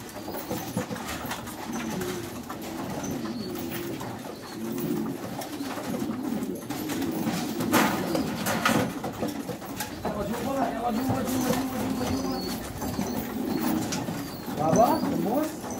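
Many pigeons coo continuously nearby, a low rolling burble layered with occasional wing flutters and faint background activity.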